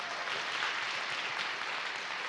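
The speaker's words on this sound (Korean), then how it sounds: "우리 윤 집사님 오랜만에 오셨으니까 한번 잠깐 우리 박수로 환영하겠습니다." Church congregation applauding in welcome during a Sunday worship service, a steady wash of hand claps filling the room for a couple of seconds with no voices on top.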